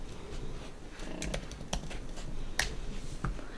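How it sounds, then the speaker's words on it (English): Typing on a computer keyboard, a quick irregular run of sharp, close key clicks with a few louder strokes, heard on its own with no talk. "y'all can literally go over to Amazon and y'all, we just gonna type cookbooks, right?"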